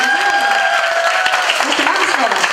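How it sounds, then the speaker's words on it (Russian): A school class claps at a fourth-grade farewell party, loud close applause with voices and a sustained musical tone running underneath. "Давайте еще раз наградим аплодисментами."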